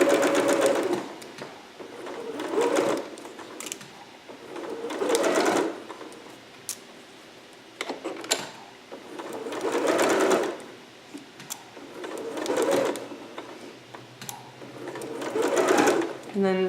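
A sewing machine stitching fabric over pins, running in bursts of a few seconds with short pauses between runs, close and clear, while someone talks between and over the stitching.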